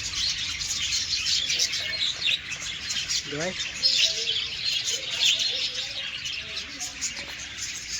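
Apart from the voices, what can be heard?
many small parrots chirping near library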